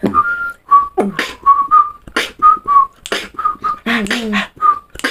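Short whistled notes repeat in a halting series, each brief tone separated by breathy puffs and pauses, close and fairly loud.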